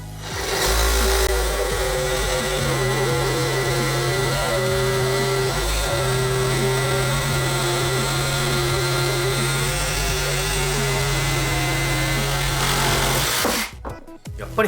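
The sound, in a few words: DINSHARE 20V reciprocating saw with Gold C blade cutting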